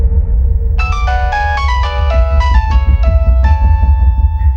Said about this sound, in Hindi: ये बार बार किसका फोन आ रहा है बेटा?